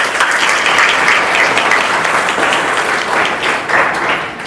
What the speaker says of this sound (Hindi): तो नारी सम्मान के लिए एक बार जोरदार ताली बजाइए अपनी माँ के लिए।